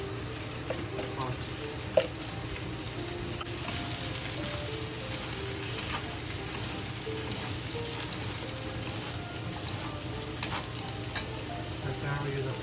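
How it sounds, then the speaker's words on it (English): Carrot, onion, celery and cabbage sizzle steadily in a hot pan for fried rice noodles, a continuous close frying hiss with occasional stirring clatter, no talk over it. "Carrot, onion, green, yellow onion, and there's a celery and a cabbage. We added to the pot."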